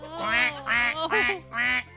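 A cartoon duck quacks four times in a steady rhythm, loud, bright nasal calls close up over a faint low hum, apparently voiced by a person imitating the duck.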